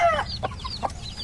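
A mother hen with a brood of around fifteen chicks gives a few close, soft clucks, with thin peeping from the chicks mixed in.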